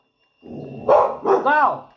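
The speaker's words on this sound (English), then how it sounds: "That's why my dogs are barking." Several dogs bark in quick bursts close by, with overlapping barks and a tonal yelp toward the end, while people's voices murmur underneath.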